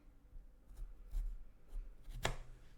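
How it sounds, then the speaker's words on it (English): A knife cuts a cucumber into very thin slices on a board, giving a few soft, close taps and scrapes before one sharper, louder cut near the end. "Just doing very like demure, very thin slices without chopping my finger off."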